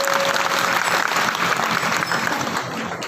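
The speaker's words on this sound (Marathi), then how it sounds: "एकदा टाळी वाजवायला सांगितलं।" A crowd claps steadily and loudly throughout at a devotional Shiv Mahapuran gathering, a dense continuous wash of hands with no pause.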